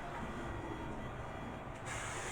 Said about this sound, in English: And I'll just hit it with some hairspray.